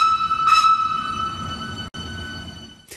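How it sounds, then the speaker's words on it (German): A new Appenzeller Bahnen Tango train on a test run passes steadily with a continuous rumble and a sustained high whine, plus a brief brighter squeal or horn-like burst near the start, all fairly loud and without speech. "der Tango macht sich lauter bemerkbar als die alten Züge"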